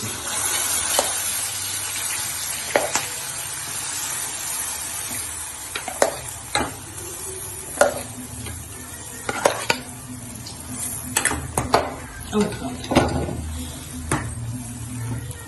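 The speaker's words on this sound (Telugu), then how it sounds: "పప్పు తాలింపు వేసేది." Tempering spices and chilies sizzling in oil for mango dal, a moderate crackling hiss broken by repeated sharp clinks and scrapes of a utensil against the pan, with no speech.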